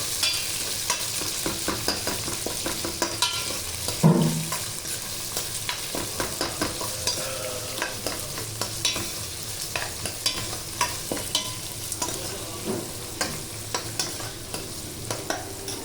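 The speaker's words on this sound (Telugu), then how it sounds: "అలాగే ఆవాలు శనగపప్పు ఇవన్నీ వేగిపోయాక ఉల్లిపాయి పచ్చిమిర్చి వేసి వేయించుకోవాలి" Chopped onion and green chili fry in hot oil with mustard seeds, cumin and chana dal, a continuous close sizzle broken by a steady run of spatula scrapes and taps against the pan, with no talking.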